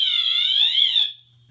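An MS-9200 fire alarm system sounds a loud, sustained electronic tone that slides slightly in pitch, then cuts off abruptly after about a second, leaving near silence.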